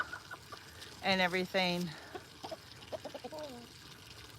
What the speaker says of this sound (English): Now that chicken you're hearing